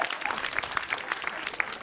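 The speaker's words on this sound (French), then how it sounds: "Ça s'applaudit, hein, les Andayaises." Applause breaks out during a French cooking demonstration of cod with Basque sauce, a short burst of many hands clapping close by with a few sharper individual claps standing out.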